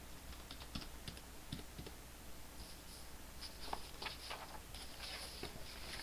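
Computer keyboard typing with tab presses while entering figures in QuickBooks accounting software, a quiet, close patter of irregular keystrokes that comes in short bursts with brief pauses.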